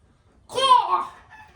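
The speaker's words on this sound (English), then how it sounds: "The rooster, bro." A rooster crows once, fairly close and loud: a single strained, harmonic call rising then trailing off over about a second after a brief silence.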